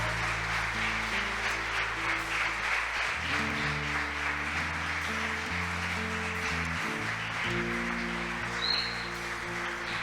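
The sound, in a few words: congregation applause in church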